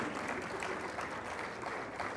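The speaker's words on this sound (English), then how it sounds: "Bryson, they're clapping for you." An audience at a grant announcement event claps steadily and densely throughout, a continuous wash of applause from many hands at moderate distance.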